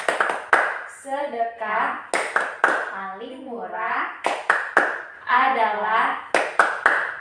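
Hand-clapping game 'tepuk senyum' in a counseling session: several sharp, separate claps punctuate chanted speech, the claps falling in short rhythmic bursts between spoken phrases.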